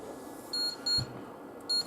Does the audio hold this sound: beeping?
yes